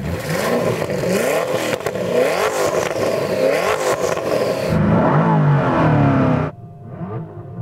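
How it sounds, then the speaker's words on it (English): A Koenigsegg combustion engine revs hard and loud, rising and falling in aggressive bursts before cutting back to a lower idle. "It's just pure internal combustion engine. It sounds powerful."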